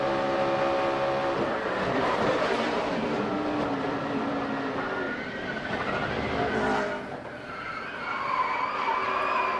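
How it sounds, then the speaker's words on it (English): A NASCAR Sprint Cup car in the 2011 race at Talladega slides through with a loud, sustained roar of engines and tyre noise that dips briefly near the end before the field's drone swells again. "And watch Matt Kenseth in that 17 slide through"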